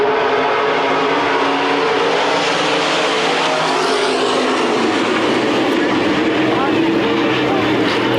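NASCAR dirt-track race cars roar around Adams County Speedway in Iowa as a continuous, loud wash of engine noise from several machines at once, with an announcer talking over it.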